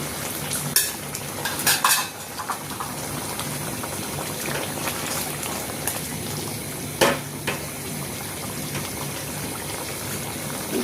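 Fried fish stirred into a bubbling curry in a pan, with a constant wet simmering hiss and a few sharp clinks and scrapes of a utensil against the pan, close and fairly loud.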